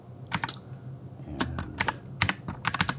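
Code is typed on a computer keyboard in short, crisp clusters of close keystrokes separated by brief pauses, with no talk over it.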